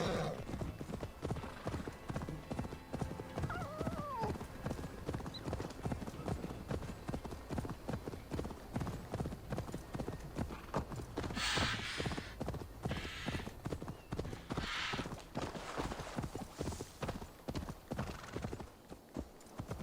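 Horse hooves clip-clopping in a rapid, steady rhythm as the horse struggles up hills in the video game Assassin's Creed Valhalla, with occasional whinnies and snorts over a continuous game background.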